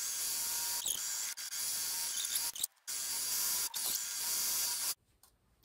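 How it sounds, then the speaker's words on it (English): An overlocker runs along the sides of a net petticoat in steady bursts, with short pauses between runs and a clear whirring at close range, no voices. "So I'm just going to overlock now down the sides."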